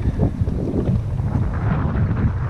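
Heavy wind buffeting a microphone out on the water while fishing a shallow flat, a loud continuous low rumble and roar with gusty swells and no voices.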